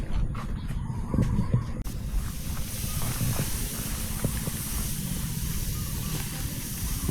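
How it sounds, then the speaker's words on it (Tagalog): Steady broadband hiss of a power sprayer spraying outdoors on farmland, continuous and fairly loud, with a few faint knocks and no talk. "Kaya naman ng power spray na ganyan."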